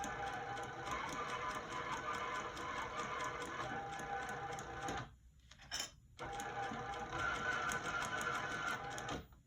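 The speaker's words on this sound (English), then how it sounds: "And then go ahead and sew all the way through." A sewing machine stitches straight through a lined zip pouch, running as a fast, steady mechanical whir for several seconds, stopping briefly, then starting again, close and alone.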